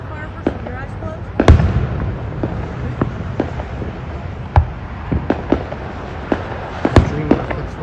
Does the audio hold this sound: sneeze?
no